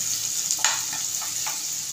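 Chopped onions sizzle steadily in a hot pan for an egg bhurji, with a few soft scraping stirs of a spoon cutting through the constant frying hiss.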